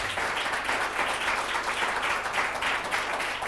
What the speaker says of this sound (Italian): qua voglio veramente applausi a Gogo, con il vicepresidente vicario della Federazione Ciclistica Italiana, Flavio Milani